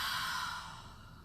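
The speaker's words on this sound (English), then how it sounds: "let's take a really deep breath together. Take another one and exhale hard." A single deep breath is pushed out hard in one close, breathy exhale that starts strong and slowly fades away.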